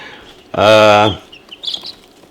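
A chicken lets out one loud, harsh squawking cluck, followed by a few faint chirps in a quiet setting.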